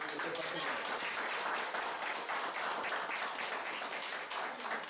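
Loud, dense applause filling the room at a football match, a continuous rush of clapping from a large crowd that stays strong throughout.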